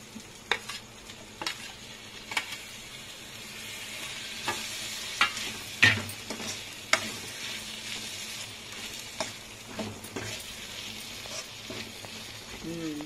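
Chopped tomatoes frying in a pan for chole masala curry, with a steady low sizzle and repeated scraping stirs of a spoon across the pan, closely heard and fairly quiet.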